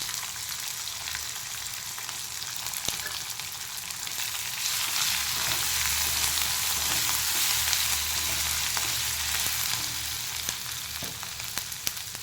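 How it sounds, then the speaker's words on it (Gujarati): Green chillies and ginger paste sizzle steadily in a hot oiled pan, a continuous loud crackling fry with a low rumble beneath, holding alone and without any talk. "હવે લીલા મરચાં એડ કરી દઈશું અને આદુની પેસ્ટ છે એ એડ કરી દેવાની"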